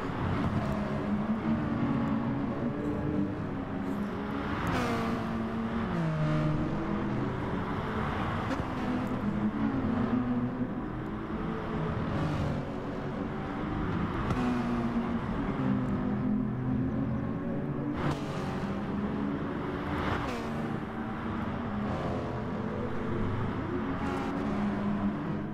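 Touring race cars in a virtual racing game, the Kiwi Touring Cars series, roar continuously at full throttle with engine notes rising and falling through gear changes as several cars pass close by, loud and steady throughout.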